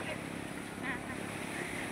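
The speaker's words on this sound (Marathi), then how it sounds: "बसलेली आहे स्पीड बोट मध्ये" A speedboat cruising on the sea near a beach, with steady engine and water rush plus wind noise throughout, and a voice talking over it.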